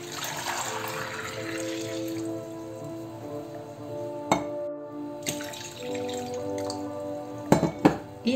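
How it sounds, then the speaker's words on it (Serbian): Water poured from a tap into a pot of potatoes, a steady splashing fill running under the whole stretch, with a few brief clinks and bumps toward the end. "Nalijemo vodom."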